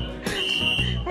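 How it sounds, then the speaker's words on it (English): Emergency alarm going off in a desert hotel during breakfast, a loud sustained electronic tone, brief and close, with people talking over it. "The emergency alarm's going off and none of us move."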